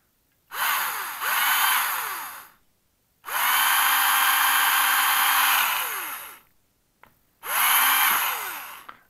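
A power drill bores through a small screw on a Traxxas UDR RC truck, in three separate sustained whirring bursts with short silent gaps between them, close and fairly loud.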